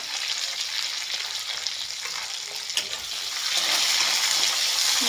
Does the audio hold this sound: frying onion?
yes